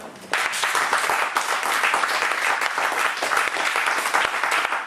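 A church congregation breaks into loud, sustained applause to acclaim the Lord, dense clapping from many hands that swells abruptly and holds steady throughout.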